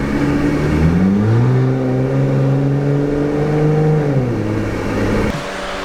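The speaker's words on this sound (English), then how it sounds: "This V6 has got some tone to it." A Jeep Gladiator's V6 engine revs loudly and steadily up close, its raspy straight-piped exhaust tone rising and holding before dropping off, with no talking.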